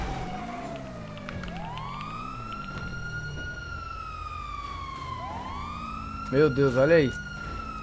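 A police car siren in a video game wails steadily up and down across the whole stretch, loud and prominent, while a voice talks over it near the end.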